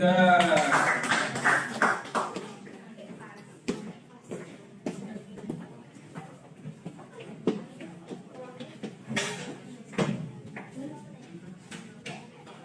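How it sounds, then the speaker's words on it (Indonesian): Classroom students clapping for group 3 after a presentation, a brief burst of applause at the start, then scattered claps and taps while a voice talks. "Tepuk tangan untuk kelompok 3."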